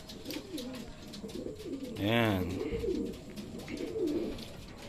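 A bato-bato dove coos once, a clear rolling coo rising out of background chatter and clicks, with people talking nearby during pigeon derby training.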